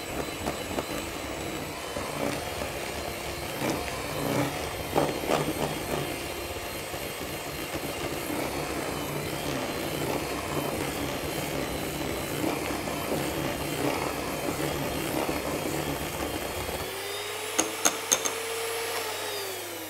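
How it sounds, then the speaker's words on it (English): An electric whisk creaming a butter mixture for a raspberry cheesecake, a steady loud motor whir with rattling beaters lasting many seconds, close by, then stopping near the end with a few light knocks. "we're just going to cream that one more time with the electric whisk"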